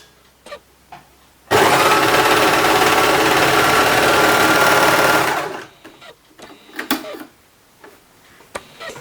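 An overlocker serger stitches fabric in one loud, steady mechanical run of about four seconds, with quieter handling of the cloth and machine before and after.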